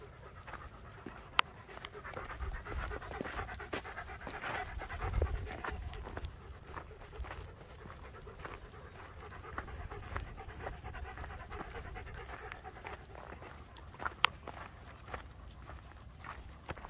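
Several dogs pant steadily and fairly close during an outdoor search hike near Truckee, rapid breathy rhythm mixed with footsteps on trail ground and occasional small knocks.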